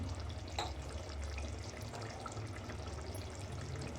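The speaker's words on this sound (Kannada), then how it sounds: "ಇದಕ್ಕೀಗ ಮೂರು ಲೋಟ ಅಕ್ಕಿ ತೊಗೊಂಡಿದ್ದೀನಿ ಅದಕ್ಕೆ ಡಬ್ಬಲ್ ನೀರು ಹಾಕ್ತೀನಿ" Water pours steadily onto raw rice in a pot while making mentya bath, a fenugreek rice dish, in a home kitchen. It is a faint, continuous rushing wash with no voices.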